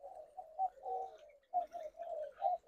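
A captive hybrid of red-whiskered bulbul and sooty-headed bulbul calling, a string of soft mellow warbled notes in two quick phrases, close but fairly quiet against a silent background.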